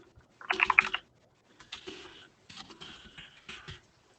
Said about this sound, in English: Just heard some key clacking.